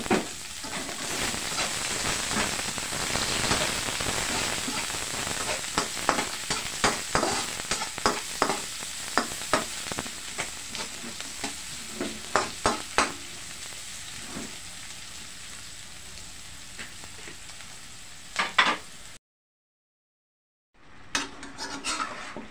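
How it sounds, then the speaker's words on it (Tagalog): Onions sauté in hot oil in a pan for chicken tinola, a steady sizzle with frequent scraping taps of a utensil stirring, close up, before a brief silence and a short resumption. "Lagay na po natin ang sibuyas."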